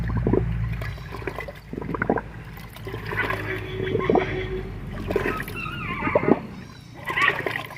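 Liquid pesticide and water are poured and sloshed into a bucket during maize cultivation, producing gurgling pours and splashes in several bursts, close up, with faint talk in places.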